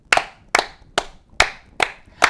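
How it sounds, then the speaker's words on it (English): Hand clapping in an even, steady rhythm, six sharp and loud claps spaced about half a second apart, close by and with no talking between them. "Okay, I'll clap."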